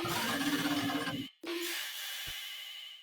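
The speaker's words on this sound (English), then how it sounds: "I guess a stretched out snare" A long, smeared snare-like hit stretched into a gritty, noisy wash, cut off by a brief gap before the drawn-out texture resumes.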